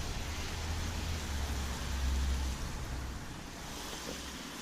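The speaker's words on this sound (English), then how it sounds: "Much easier to water my plants." Water sprays steadily from a long-reach hose wand onto plants in a backyard raised bed, a continuous broad hiss with some low wind rumble that eases slightly after a few seconds.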